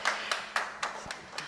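A small audience at a Bristol Airport planning inquiry claps sparsely, with about six distinct, separated hand claps in an uneven rhythm, fairly close and moderately loud, with no talking.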